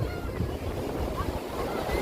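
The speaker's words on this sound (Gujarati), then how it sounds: "આમ દરિયો આમ ઉછળીને આવે છે હો." Sea waves surge onto a crowded public beach, a continuous rushing wash of surf with wind buffeting the microphone.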